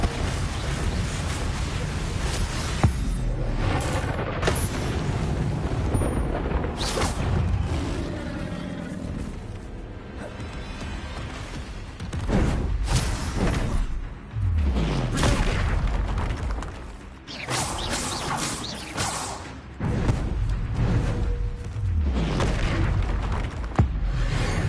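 Bombarda explosion spell blasts in the video game Hogwarts Legacy, heavy booming bursts repeating irregularly amid dense combat noise and low rumbles, loud and close throughout.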